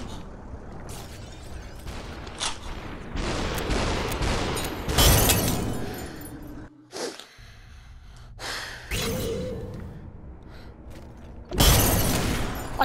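Gunfire and glassy shattering of red enemies in the VR shooter SUPERHOT VR, loud bursts and crashes separated by brief quieter stretches, close and punchy with heavy breathing between hits.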